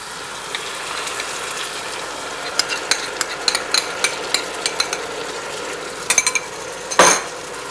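A spoon stirs a sauce for coquilles Saint-Jacques in a pan in a French kitchen, giving soft scraping and light clinks that grow busier midway and end with one louder scrape, with no voices.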